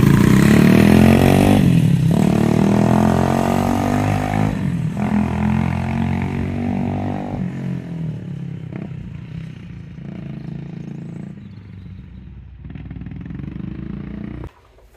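Dalesman motorcycle engine running on a road test, a loud continuous engine drone that dips and rises with the throttle and fades slightly as it goes on, with no voices.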